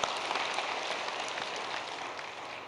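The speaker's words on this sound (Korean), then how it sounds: "오늘도 부활의 새 생명을 우리에게 주신 주님 앞에 감사 박수 드리겠습니다." A church congregation at an Easter service claps in thanks, a soft, fairly distant wash of many hands that holds steady for a few seconds and then fades slightly.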